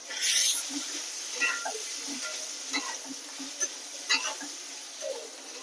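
Potatoes seasoned with turmeric and salt fry in a pan with a steady, soft sizzle, broken by repeated scraping stirs of the spoon against the pan.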